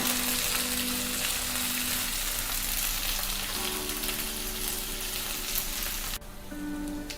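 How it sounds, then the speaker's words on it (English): Capsicum and onions sautéing in a pan over a high gas flame, a dense, continuous sizzle and crackle throughout, briefly dipping near the end, with no talking. "Put the gas on high and saute it till it becomes brown."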